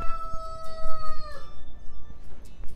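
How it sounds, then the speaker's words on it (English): Roosters crow at 5 a.m. outside a three-story treehouse in Miami, Florida, giving one long loud crow followed by fainter, more distant crows from other birds. "It's 5 a.m. and the chickens are already cockadoodling."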